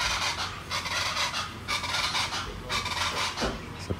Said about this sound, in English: Oh, hear that? There's a parrot there,